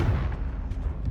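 A Confringo fire-blast spell cast in the Hogwarts Legacy video game bursts out as a loud, booming blast, its heavy low rumble filling about a second without fading.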